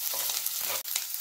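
Ginger and garlic frying in a pan for the start of a hotel-style tomato soup, a dense, loud, continuous sizzle with stirring scrapes and one brief dip.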